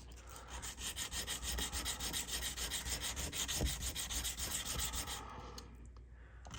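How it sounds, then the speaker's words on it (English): Fine 2000 grit sandpaper rubs back and forth over a small lathe-cut brass nut from a Seikosha ship's clock, a quick, steady, close scratching rhythm that fades out near the end. "I'll use 2000 grit sandpaper to get rid of the fine lathe cut lines."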